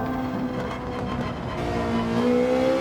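Ferrari GT4 race car engine in Gran Turismo 7 holding a steady, sustained drone at light throttle, with tonal harmonics that rise slowly toward the end, continuous and fairly loud without any talk.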